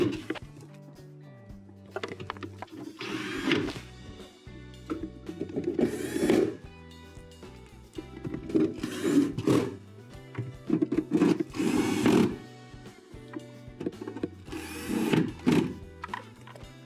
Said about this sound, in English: And now we can reinstall our 6 Phillips screws.